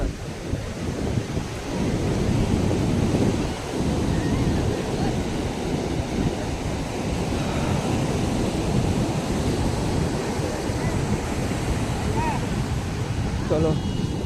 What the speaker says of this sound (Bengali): এই দেখো, ঢেউগুলো দেখো।